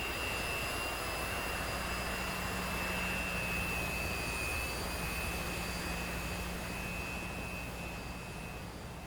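A Su-33 Flanker jet engine in the DCS flight simulator on final approach to a carrier landing, a loud, steady roar with a high whine held throughout, with no talk over it.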